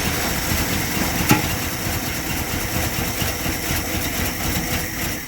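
A 1972 Plymouth Duster's 318 V8, run for the first time in 25 years with a clogged exhaust, idles and runs in a steady rough drone, with one brief knock partway through.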